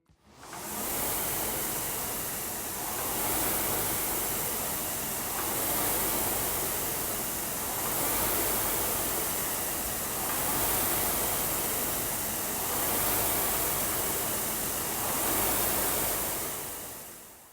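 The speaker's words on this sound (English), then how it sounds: "The sound you just heard was the sound of a rowing machine." A rowing machine in use gives a broad whooshing rush that rises and falls in slow, regular surges about every two seconds, steady and fairly loud, with no voices.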